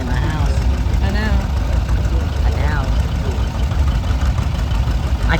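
A Case steam engine runs at a steam and gas engine association parade in the Shenandoah Valley, giving off a steady, loud low rumble throughout while people talk over it.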